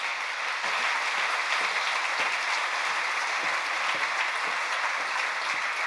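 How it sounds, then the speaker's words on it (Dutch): Audience applause at the plenary opening of a three-day festival, a dense, steady wash of many hands clapping continuously at moderate volume, with a few voices faintly underneath. "Ja, applaus."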